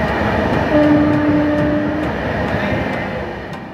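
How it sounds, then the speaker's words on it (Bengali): The Tamralipta Express runs at high speed: a loud, steady rumble of wheels and carriages with faint rhythmic clicks of the rails, heard close up from on board. "ট্রেনের ছন্দময় শব্দ আর জানালার বাইরের গ্রাম বাংলার ছোট ছোট ঘর ও পুকুরগুলো এক শান্ত পরিবেশ তৈরি করে"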